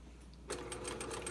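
A sewing machine back stitches fabric while sewing an Olson mask, starting abruptly after a quiet moment with a rapid, close, fairly soft mechanical clatter of repeated stitches.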